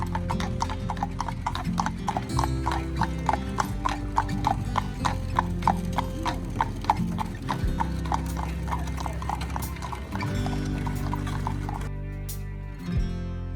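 Horses' hooves clip-clop in a steady, even rhythm along a street in Williamsburg, Virginia, moderately close over a continuous low rumble, fading near the end.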